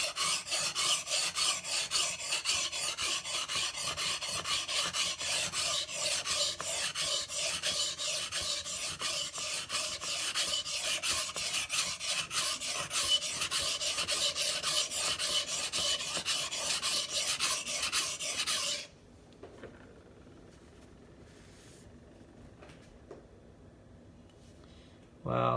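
A knife is ground on a coarse Shapton glass whetstone, giving a steady, close rasping scrape that runs continuously for about nineteen seconds before stopping, followed by near silence and a brief knock.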